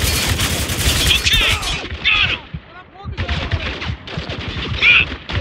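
Bursts of automatic gunfire and heavy shots in the Spec Ops: The Line shooter, loud and clustered with short gaps, mixed with shouted squad callouts.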